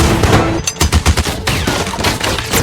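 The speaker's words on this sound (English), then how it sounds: "Chris ordered his men to bring out his trump card, a Gatling gun." A Gatling gun fires in a western movie battle scene, a loud rapid string of shots in quick bursts with short gaps, close and harsh, mixed with film soundtrack noise.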